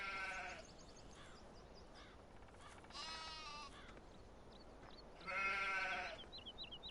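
Sheep in Farming Simulator 17 bleat three times in separate bursts, one near the start, one in the middle and a louder one near the end, with faint birdsong between.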